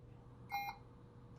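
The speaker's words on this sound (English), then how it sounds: "there is an alarm that's flashing down below, and it's the AC power alarm" One short, faint electronic beep from a ventilator's AC power alarm after being unplugged, over a quiet background hum, with no voices.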